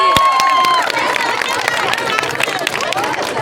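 A crowd of girl students at a late-night protest clap and cheer together, a dense burst of hand claps and shouting that stays loud and steady throughout, with chatter mixed in.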